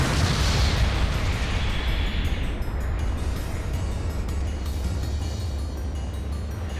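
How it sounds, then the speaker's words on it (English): A mobile suit is blown apart in Gundam Battle Operation 2, a loud, dense explosive roar with a bright hiss at the start that churns steadily and slowly settles over several seconds. "Your mobile suit has been destroyed."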